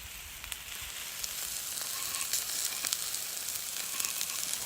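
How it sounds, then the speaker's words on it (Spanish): Meat fries over a campfire at a primitive bushcraft camp, producing a steady, even sizzle with light crackles and spits throughout, close and uninterrupted, with no talking. "Ha llegado el momento de freír la carne"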